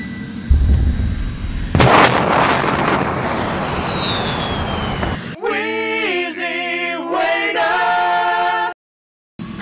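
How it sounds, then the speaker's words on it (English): A dramatic sci-fi whoosh: a rushing, rumbling swell with a descending whistle, then a warbling electronic sweep that cuts out abruptly. "Time travel noises."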